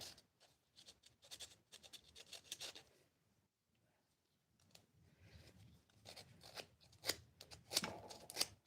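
Rough 80-grit sandpaper rasps against a wooden handle in quick, close strokes, faint overall, with a short pause midway before busier, scratchier sanding resumes.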